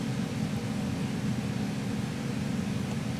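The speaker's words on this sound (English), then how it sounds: "it's a pretty loud noise because generators are really loud and obnoxious" A steady, loud generator drone looping in an Unreal Engine sound cue with a modulator, a constant rumbling broadband hum with no pauses or variation throughout.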